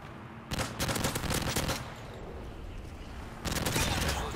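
Automatic gunfire in the Modern Warfare 3 video game, two loud rapid bursts of shots separated by a brief pause, close and dominant, with faint talk underneath.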